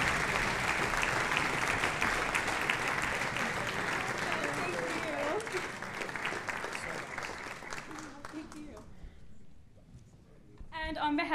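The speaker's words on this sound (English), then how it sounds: "a round of applause for you" An audience at a high school spring concert claps loudly and steadily for several seconds, gradually thinning out before a voice begins speaking near the end.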